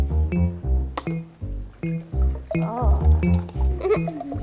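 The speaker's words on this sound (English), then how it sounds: "In one container, dilute 1 part water glass with another part water" Water is poured into a container to dilute water glass, producing a series of glugging, dripping fill sounds in uneven bursts, close and moderately loud, with no voices.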